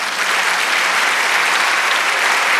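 Dense, steady applause from a church congregation during a sermon, many hands clapping together at an even loudness with no voices above it.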